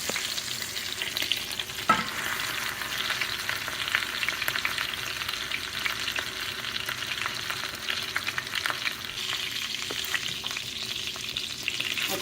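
Grouper fillets fry in a hot pan with a steady, even sizzle and crackle, loud and close throughout, holding one faint sharp tick near the start and no voices.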